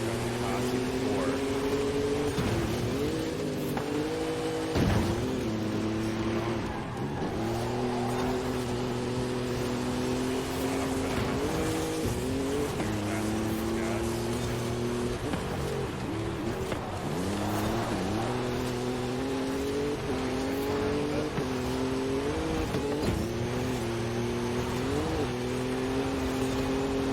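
A race car engine in Forza Horizon 5 drones steadily with repeated rising and falling revs through gear changes, a continuous loud in-game engine note with a voice talking over it.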